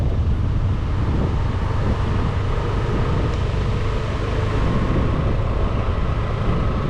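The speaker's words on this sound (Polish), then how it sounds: "Hula wiatr." Wind gusts steadily and loudly across an open, nearly deserted housing estate on Phu Quoc, a continuous broadband roar with buffeting rumble that never lets up, no voices over it.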